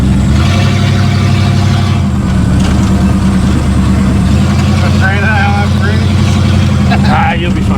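A 1937 Ford pickup's engine drones steadily while driving and shifting through the gears, loud and close, with people talking over the engine noise.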